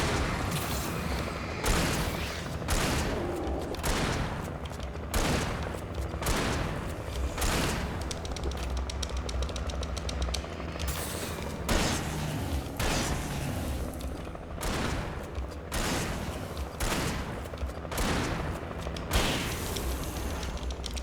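Shotgun fire in the video game Alan Wake, with heavy booming blasts repeating every second or two over a dense, loud roar of game noise and clattering mechanisms.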